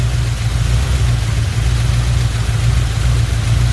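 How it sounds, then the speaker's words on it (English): A 1968 Camaro engine idling with a slight miss, a steady, loud, close low rumble that holds even throughout with no voices. "Car does have a slight miss. If you listen real close, you can hear it."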